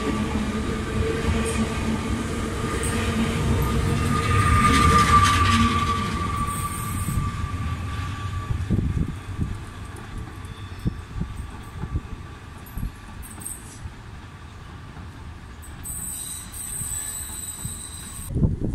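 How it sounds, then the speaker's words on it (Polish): Passenger train pulling into Katowice station, a steady rumbling roar with a sustained squeal that swells and then fades, followed by scattered clanks and knocks from the wagons as it slows alongside the platform. "Wjeżdża pociąg osobowy relacji z Wardoń Katowice."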